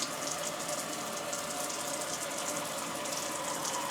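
Water pouring steadily from a tap in a backpacker's lodging, a continuous broadband hiss and splash, close and even throughout with no talking.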